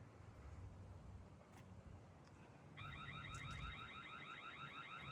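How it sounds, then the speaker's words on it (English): A Tapo C645D solar security camera's piercing electronic siren alarm starts partway through and keeps wailing in a rapid warbling pattern over a steady low background rumble. "Got the alarm going off, which flashes with lights too"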